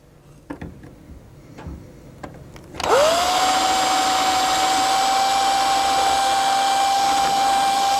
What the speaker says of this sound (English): So we'll drill those holes.